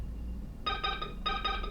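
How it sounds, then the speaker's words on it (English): Phone ringing indoors, two quick bursts of a bright electronic trill in repeated pulses, moderately faint and heard alone. "that is my phone ringing"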